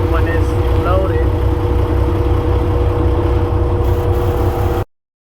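A 2017 Kenworth W900 truck fitted with a K&N air filter idles with a steady, low, even engine rumble, nearby and unchanging, before the sound cuts off abruptly.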